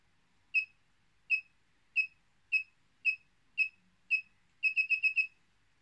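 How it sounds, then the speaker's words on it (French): A development board for an ATtiny85 microcontroller emits short electronic beeps, seven evenly spaced tones about half a second apart followed by a quick burst of five, clean and close with no talk. "Vous voyez, on a à nouveau le bip bip bip bip bip."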